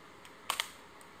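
Samsung NX500 mirrorless camera firing its shutter with autofocus on, two quick close mechanical clicks in a quiet room, faint and alone.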